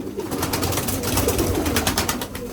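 Pigeons coo at a bird market, a close chorus of soft throaty calls layered over one another in a continuous murmur, with no talk.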